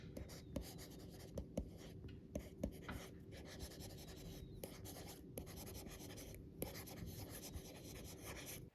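Stylus scratching across the screen of a BOOX Note Air 2 e-ink tablet, a steady papery scribbling with small sharp taps at stroke starts, close and quiet, without any voices.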